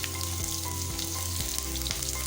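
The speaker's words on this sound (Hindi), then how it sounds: "आपने थोड़ा सा ऑयल डाल के सबसे पहले आपने प्याज डाल देना है" Chopped onions in a little hot oil for a chicken bitter gourd mince dish give a close, even sizzle, with a low electrical hum beneath and a few soft clinks.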